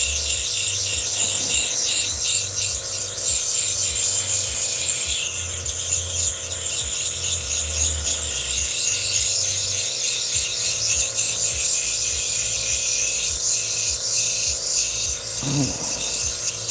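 A stone cabochon is ground on a lapidary wheel, a constant close grinding rasp with a whirring motor underneath, steady and loud for the whole stretch.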